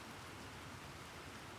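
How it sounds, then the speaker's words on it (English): Steady rainfall in the video game Planet Crafter forms a constant, soft, even hiss of falling rain with no breaks and no voices. "It's raining now."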